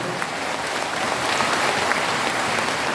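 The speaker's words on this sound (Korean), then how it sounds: "박수 한번 주세요" Crowd applause at a political gathering in Korea: dense, steady clapping from many hands that holds at an even, fairly loud level throughout, with no clear voices above it.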